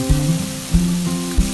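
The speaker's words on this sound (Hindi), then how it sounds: "अब हमने जो भिंडी और आलू फ्राई करके रखे थे वो ऐड कर देंगे।" Fried okra and potato pieces drop into a pan of hot spices and crackle loudly up close, with three short thumping bursts over a continuous sizzle and no speech.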